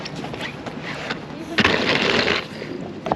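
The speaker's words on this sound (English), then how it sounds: "I have to lug it around Paris for 10 blocks on this cobblestone. Makes the loudest noise." Large suitcase wheels rattling steadily over Paris cobblestone streets, a continuous rough clatter with a louder, denser stretch in the middle, heard close by outdoors.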